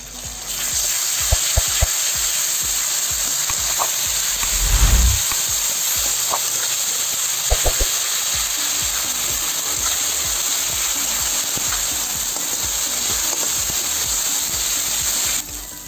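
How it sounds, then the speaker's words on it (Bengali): Garlic and green chili paste frying in oil for a masala egg omelette curry, a steady loud sizzle and hiss running the whole time, with a few clinks and stirring knocks from the pan. "এই যে রসুন আর কাঁচামরিচটা ভাজা হয়ে গেছে"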